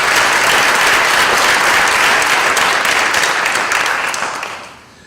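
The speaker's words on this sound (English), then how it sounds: "Please give him a nice round of applause." A room full of people applauds steadily at a school Board of Education monthly meeting, the dense clapping holding strong and close before tapering off in the final second.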